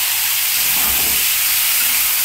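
Capsicum tipped into a hot pan of frying vegetables with cauliflower, giving a loud, steady hissing sizzle that holds for a couple of seconds with no talk.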